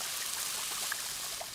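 Lemonade poured out in a steady, soft trickling stream, a continuous watery hiss with faint splashy bubbles, fairly quiet and unbroken.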